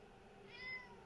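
A pet cat gives a single short, faint meow indoors, soft and brief against quiet room background.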